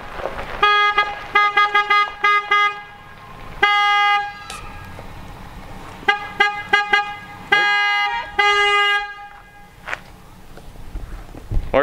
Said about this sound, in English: I honked enough.